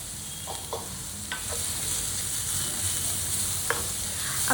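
Sliced onion fries in oil in an iron wok, giving a steady close sizzle with occasional stirring scrapes and clicks throughout.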